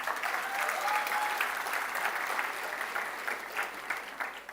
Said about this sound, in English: Ladies and gentlemen, I request you to clap for the students.